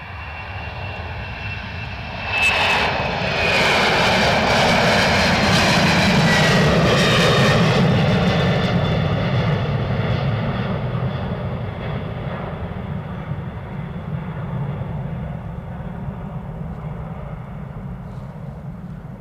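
An EasyJet airliner at Edinburgh Airport sends a loud, sustained jet-engine roar that swells sharply, holds strong for several seconds, then slowly fades while staying audible, with no talking.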